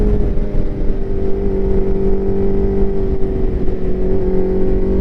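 Rare vintage Yamaha motorcycle being ridden on the road, its engine droning loud and steady close up with a constant hum and wind rush, no speech over it.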